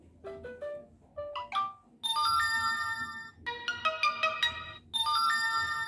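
An Infinix Note 11 phone notification ringtone plays several short melodic tone phrases with brief gaps between them, clear and close, with no talking.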